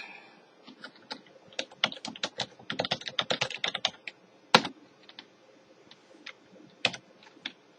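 Fingers type on a computer keyboard at close range, with quick irregular clusters of crisp key clicks, a heavier spacebar or enter thump midway, then slower scattered taps.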